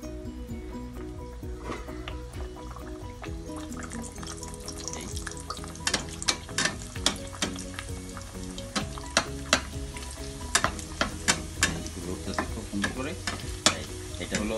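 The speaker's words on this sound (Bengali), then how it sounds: "তেল গরম হয়ে গেছে, এখন আমি রুটিটা এই তেলে ছেড়ে দেবো।" Afghan flatbread frying in hot oil, a steady loud sizzle with repeated sharp clinks and scrapes of a utensil growing busier toward the end, no voices.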